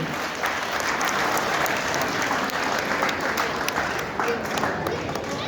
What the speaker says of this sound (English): a big round of applause for our chief guest of the day